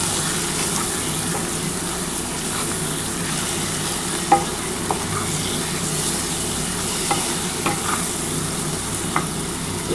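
Drumsticks and potatoes frying with mustard paste, a steady loud sizzle with occasional soft stirring clicks and scrapes of a spoon against the pan.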